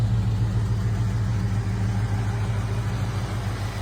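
A classic car engine idles close by at a steady, even rumble, loud and unbroken for a few seconds with no voices over it.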